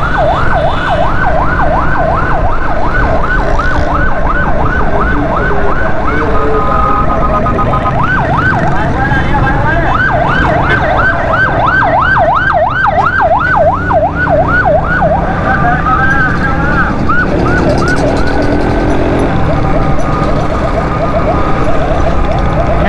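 A loud, wailing ambulance siren cycling up and down repeatedly amid heavy traffic rumble near the Lyari Expressway, Karachi, cutting out briefly and resuming, with people talking.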